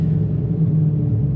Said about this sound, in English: it actually rotates the engine a few times before it gets that sync and fires up